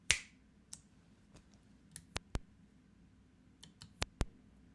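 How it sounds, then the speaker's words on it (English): Several crisp finger snaps made in a room, a sharp loud one at the start followed by a scattering of softer snaps and clicks at irregular intervals, with two or three more loud ones near the end, no voices. "So like, got like a finger snap."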